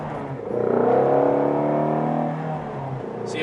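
A Shelby GT350 drives on a slick, rain-wet road in New York traffic, its engine droning steadily and swelling slightly as it pulls, with a constant broadband road and tyre hiss underneath and no talking.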